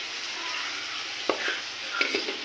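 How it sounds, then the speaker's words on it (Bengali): Radish greens frying and being stirred in a pan, with a steady broadband sizzle throughout and a few sharper scrapes of the spatula against the pan near the end. "এটা হচ্ছে মূলো শাক ভাজা"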